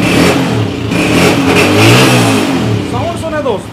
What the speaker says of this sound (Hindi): अच्छी नॉक में इंजन मोड़ रहा है सर, थोड़ा रेसो दे